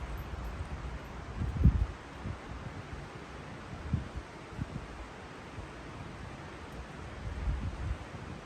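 Steady gusty wind noise rushing across the microphone on a disc golf course, with a few low buffeting thumps and faint rustling, no voices.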